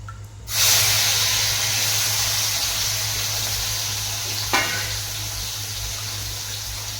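Tomato, onion and peanuts hit hot oil with mustard seeds and cumin, bursting into a loud, close sizzling hiss that slowly settles into a steady fry, with one brief clink partway through.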